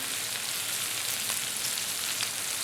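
Chilli meatballs fry in a pan, giving a constant bright sizzle and crackle with faint pops scattered through it and no voices.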